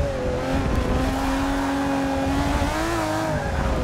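Mercedes CLK GTR race car at Watkins Glen in Forza 6, VGN spec: a loud, continuous engine drone held at high revs, its pitch climbing and shifting slightly as the car accelerates, with no talk.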